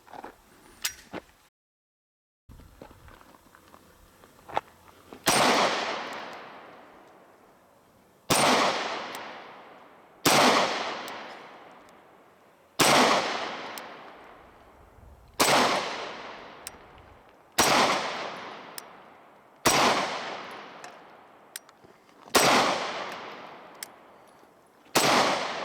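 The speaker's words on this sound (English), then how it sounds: "So we got a full mag here. Okay. Decock it and go double action first round." A Smith & Wesson 6904 compact 9mm pistol emptying a full magazine outdoors, the first shot double action, then about eight loud, close, evenly spaced shots several seconds apart, each ringing off and decaying.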